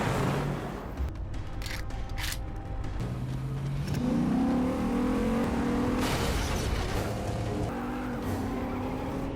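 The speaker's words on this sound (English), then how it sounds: "He readies his gun and urges Lena to accelerate" A car engine accelerates and revs, its pitch climbing steadily over a continuous rumble, fairly close with no talk.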